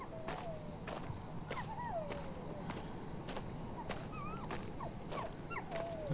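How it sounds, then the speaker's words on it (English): A dog whimpers and yelps in pain, caught in a bear trap in the survival horror game Maid of Sker, with repeated thin rising and falling whines over a steady low ambient rumble and sharp intermittent clicks. "Is a dog in a bear trap?"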